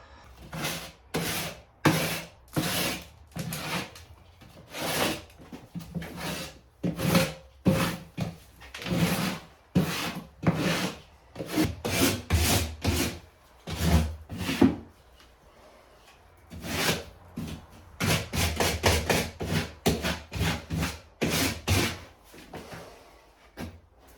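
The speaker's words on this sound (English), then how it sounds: "I'm going to get that with a rasp and some sandpaper" Rough wooden edge being worked by hand with a rasp and sandpaper, heard as a long run of rhythmic scraping strokes, each stroke a short rasping burst with brief pauses between, close and fairly loud with no talk.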